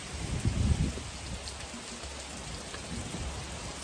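Rain falls steadily outside during a summer storm, a close, continuous patter of drops with a low rumble near the start that suggests distant thunder, and no talking.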